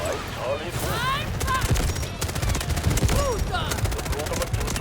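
Rapid automatic gunfire rattles in dense bursts during a Delta Force video game firefight, loud and close, with brief pauses between volleys and someone talking over the shooting.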